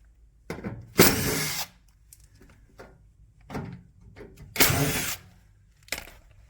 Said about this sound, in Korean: 안에 고정 나사를 또 3개를 분리를 해 주십시오